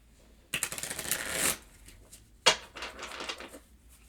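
A deck of tarot cards is shuffled close up in two quick, crisp bursts of flicking and riffling, with a short pause between them and quiet room tone around.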